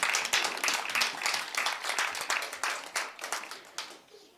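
A round of applause for the Karas regional governor rings out at the Bethanie Youth Expo opening, close and distinct clapping in quick repeated bursts that gradually thins and fades.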